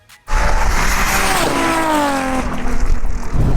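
A Toyota Supra race car with a 2JZ engine launches hard and screams up through the revs, a loud, close engine roar with rising pitch and a brief dip at a gear change.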